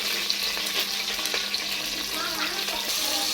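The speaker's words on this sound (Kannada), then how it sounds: "ಈಗ ಸ್ವಲ್ಪ ಚೆನ್ನಾಗಿ ರೋಸ್ಟ್ ಮಾಡ್ಕೊತಾ ಇದ್ದೀನಿ ಈರುಳ್ಳಿ ಚೆನ್ನಾಗಿ ರೋಸ್ಟ್ ಆಗಿದೆ" Onions and curry leaves roasting in hot oil with mustard seeds in a pan, a steady close sizzle with light stirring scrapes, no voices heard.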